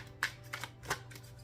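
Tarot cards being shuffled by hand in a quiet room, giving a few soft, brief riffling bursts over a low steady hum.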